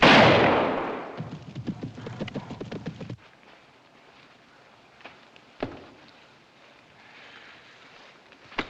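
A single loud rifle shot from a hunting rifle in a 1952 film cracks at the very start and decays, followed by a quieter rumbling stretch and a softer sharp knock later, with no talk.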